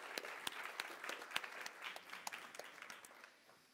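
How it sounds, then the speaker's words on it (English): A live audience gives a warm round of applause for Triodos Bank CEO Jeroen Rijpkema, with distinct individual claps standing out from a soft, steady patter that fades toward the end. "Please give a warm round of applause"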